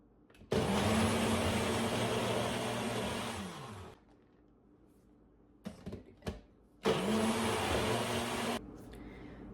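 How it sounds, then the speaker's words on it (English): A kitchen blender whirs through banana protein pancake batter in two loud bursts, the first about three seconds long and winding down, then a short pause with clatter before a second long run. "And now I'm going to blend everything."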